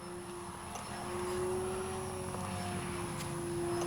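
FMS Ranger RC plane with a steady propeller drone, a high motor whine holding level and swelling slightly louder through a snap roll, with no other sounds over it.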